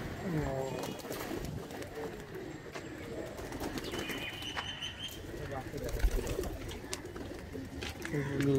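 Pigeons in a loft of high-flying Andhra birds coo amid a dense, noisy mix of voices, shuffling and occasional wing flaps, the cooing partly buried under the people talking.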